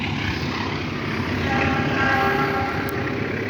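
A train rolls past on the railway beside a field at the edge of the tracks, a steady, loud broadband rumble with faint wheel squeal holding evenly throughout, with no voices.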